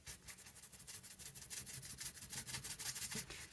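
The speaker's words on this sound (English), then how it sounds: "Let's just take off some of this excess glue." Excess glue being rubbed off a handmade paper card tag for a junk journal: quick repeated close scratchy rubbing strokes in a fast, fairly even rhythm, quiet and alone.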